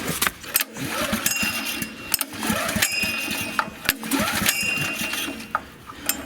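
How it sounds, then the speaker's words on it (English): A 1990s Honda EG2200X 2.2 kVA portable generator engine cranks and catches close by, with repeated sharp mechanical clicks and knocks over a rough, uneven running rumble. "Engine switches on."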